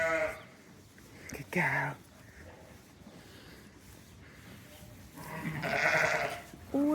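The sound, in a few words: sheep bleating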